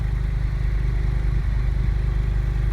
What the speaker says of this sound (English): engine noise as well, an exhaust note on tick over